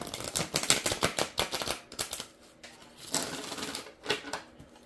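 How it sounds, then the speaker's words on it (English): Deck of cards shuffled during a tarot-style reading, giving a run of quick riffling clicks and flutters in bursts, moderately close with short pauses between shuffles, no talking. "I'm going to put these back in, shuffle them up"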